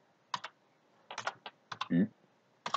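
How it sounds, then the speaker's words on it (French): Typing on a computer keyboard while entering a vector expression into GeoGebra's input bar, a few short clusters of crisp, close key clicks with gaps between them, heard alone. "il suffit que je tape juste 2U"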